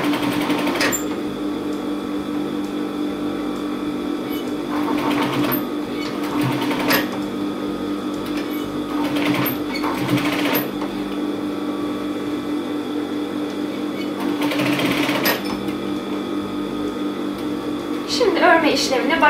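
A sewing machine tacks a torn pair of jeans in short repeated bursts of fast, even stitching, close and fairly loud, with brief pauses between runs and a steady hum underneath.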